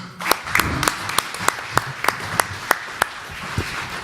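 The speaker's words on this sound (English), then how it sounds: "Please give them a round of applause." Applause for three panel speakers at an Invest Yukon discussion, a small audience clapping in a fairly sparse, distinct rhythm with individual claps standing out, close and moderately loud, with some low murmuring.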